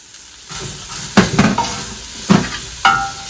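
Chopped onion and minced garlic sizzle in a pot for vegetarian chili, a steady hiss cut by a few sharp scraping stirs and clunks, close and fairly loud, with no speech.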